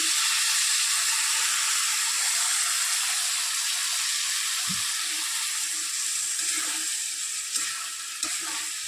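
Chicken frying with mustard paste in a pan, a steady close sizzle throughout with occasional stirring clatter of a utensil.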